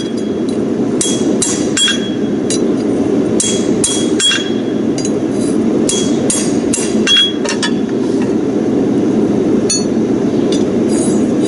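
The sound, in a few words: hammering the bottom edge of a horseshoe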